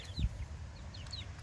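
Chickens cluck softly in a brief burst of short chirpy calls, fairly faint over low background rumble and a single thump, with no talk.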